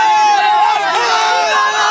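A large crowd of supporters makes loud, close hubbub: many voices shout and cheer over each other without a pause.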